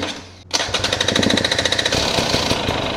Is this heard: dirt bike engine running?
yes